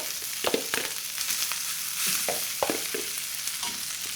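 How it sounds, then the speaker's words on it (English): Cooked rice for lemon rice tipped into a hot frying pan and stirred, giving a steady sizzle broken by repeated scraping and stirring knocks, close up. "I'm just going to start to add in my cooked rice."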